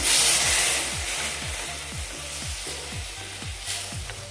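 Milk stirred into rava (semolina) in a pan for sweet modak: a spoon scrapes the pan in a steady rhythm of about eight even strokes, roughly two per second, over a soft background hiss.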